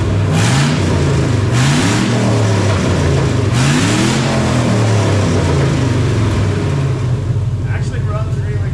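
Willys Wagon Overlander engine running loud and close, its pitch rising and falling through several revs as the throttle is blipped, with a steady idle rumble underneath throughout.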